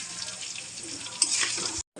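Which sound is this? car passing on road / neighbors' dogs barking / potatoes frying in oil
potatoes frying in oil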